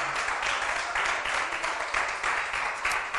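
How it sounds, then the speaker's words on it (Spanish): Congregation in a church clapping together in a steady, sustained round of applause, broad and fairly loud, with no voices over it. "Denle un fuerte aplauso al Señor."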